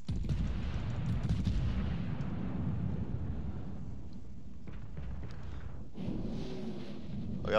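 Heavy naval guns on warships in World of Warships firing shells, deep booming blasts and rolling rumbles layered together, with a fresh report near the end.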